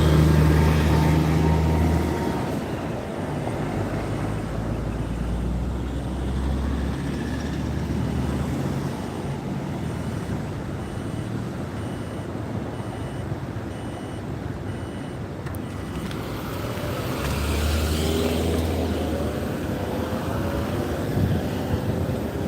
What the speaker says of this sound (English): I really don't like how this motor slowly builds up from the thing there, because it's uphill